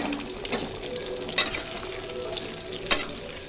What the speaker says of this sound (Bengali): জিরা, তেজপাতা, লঙ্কা, শুকনো লঙ্কা ফোড়ন দেবো